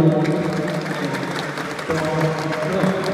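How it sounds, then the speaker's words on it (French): Audience applause at a university law and economics faculty graduation ceremony in Cap-Haïtien, a steady wash of clapping with crowd murmur and some voices underneath. "Alors sur vos applaudissements, je vous demande d'applaudir Maître Philomé Pétlan"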